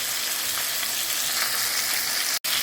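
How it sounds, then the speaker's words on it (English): Chicken pieces brown in hot oil in a pot for Jamaican curry chicken, giving a loud, continuous close sizzle and crackle throughout with no talking. "all the chicken is in the pot, so now I'm just going to give it the opportunity to get brown on one side"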